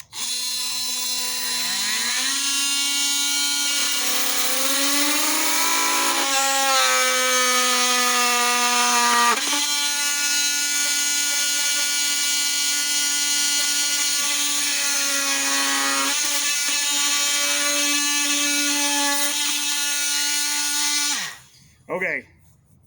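Milwaukee Fuel 18 volt oscillating multi tools cut through material, a loud, close, buzzing whine with pitch wobbling under load, running continuously for about twenty seconds before stopping, followed by a brief burst.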